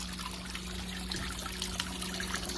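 Water trickling from a POPOSOAP 12W solar water fountain in a backyard, a faint, steady splashing dribble with a low constant pump hum underneath.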